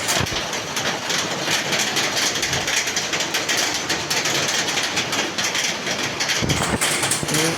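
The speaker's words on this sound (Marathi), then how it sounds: "आज दिवसभरच पाऊस आहे" Heavy monsoon rain pours outdoors near a waterlogged highway, making a dense, loud, unbroken roar throughout with no voices.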